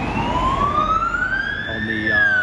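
An ambulance siren wails past on a busy Sydney street during a protest march near Hyde Park, its rising tone loud and steady across the whole stretch with traffic rumbling underneath.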